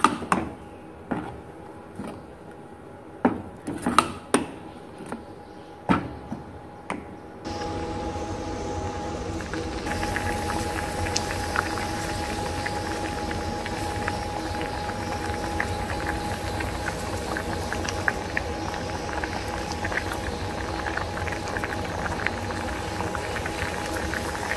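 Irregular clinks and knocks give way to a steady, bubbling rush of a pot boiling on a stove, continuous and close.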